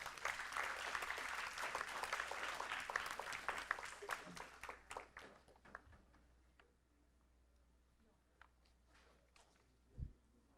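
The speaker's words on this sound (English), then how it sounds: "Let's give him a round of applause." Applause at a school board meeting honoring a future lawyer, clapping from a seated audience that starts dense, then breaks into scattered individual claps and dies away into quiet, with a soft thump near the end.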